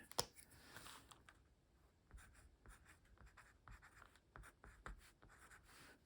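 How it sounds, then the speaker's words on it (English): A pen scratches steadily across the back of a sheet of paper in a quiet room, with short strokes, small pauses and a few sharper taps. "I will quickly write here on the back."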